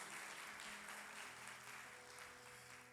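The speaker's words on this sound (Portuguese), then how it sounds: "Você pode aplaudir ao Senhor" A church congregation applauds, a steady wash of many hands clapping that continues throughout at moderate loudness, fading slightly toward the end, with a low musical hum underneath.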